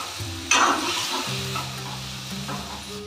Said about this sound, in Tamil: சட்னி வதங்கிட்டு இருக்கட்டும்.